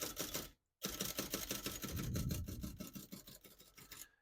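Fast, crisp keystrokes rattle from a 1934 Remington Noiseless portable typewriter, a dense run of clacks broken by one short pause, close up and without talking.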